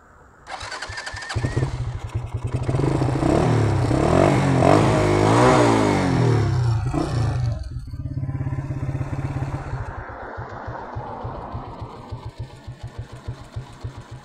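A Rusi DL 150 motorcycle engine fitted with a 28mm Keihin flat-slide carburetor cranks and starts, then revs loudly in rising bursts before settling into a steady, chugging idle with rhythmic putters, close by.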